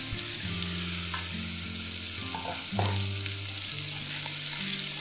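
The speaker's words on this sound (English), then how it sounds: "In the same pan, put in a little oil. And fry the pork belly." Pork belly frying in a little oil in a pan, a steady moderate sizzle and crackle, with faint tonal kitchen sounds layered underneath.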